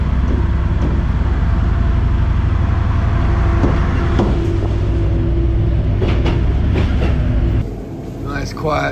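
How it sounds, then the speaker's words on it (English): A continuous low rumble and rattle of a train rolling along rails fills the clip, with occasional clunks, before easing off near the end. "Quiet train."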